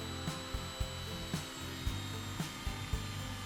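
Hand sawing through small wooden strips for campervan pop-top LED lighting, trimming them thinner: a steady series of rasping strokes about every half second, close and clear with no talk.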